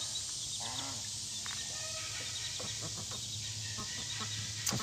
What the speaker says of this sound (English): Those chickens are going crazy over there.